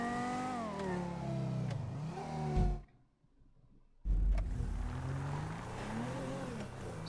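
Banshee sports car engine in GTA Online, revving and shifting through gears in rising and falling sweeps, cut by a brief near-silent gap before the throttle picks up again.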